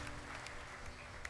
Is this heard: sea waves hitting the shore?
no